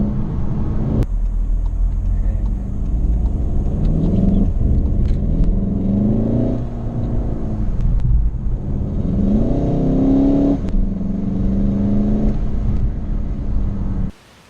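A Volkswagen Golf GTI petrol engine drones steadily for about fourteen seconds, rising and falling in pitch with each acceleration and gear change, then cuts off abruptly.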